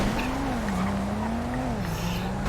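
Car engine in the GTA video game, a steady droning motor with squealing tires throughout, loud and close, with no talk.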